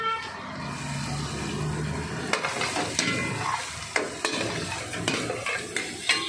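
Chopped onion goes into a pan with melted Amul butter and chopped garlic over a low flame, giving a steady close sizzle with intermittent stirring clicks and scrapes of a utensil against the pan.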